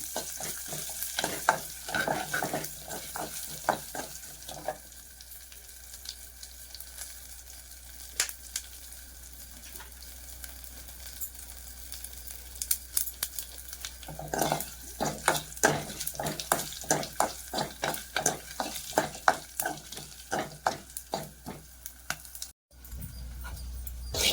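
A spoon stirs moong dal curry with drumstick leaves in a pan after asafoetida and mustard seeds go into the tempering, making repeated close scraping and clinking strokes in bursts over a low steady hiss, without speech.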